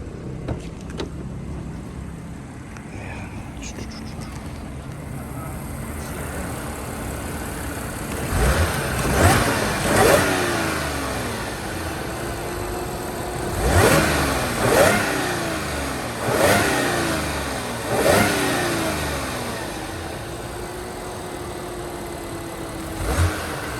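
A 2011 Audi S4 engine idles, then revs sharply several times in quick bursts, each rise falling back to a steady idle, loud and close.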